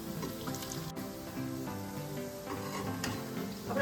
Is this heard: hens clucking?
no